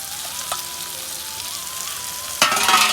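Chopped chicken hits a pan of fried spice masala with a steady, close sizzle of frying, then a sudden louder burst of crackling near the end as the meat goes in.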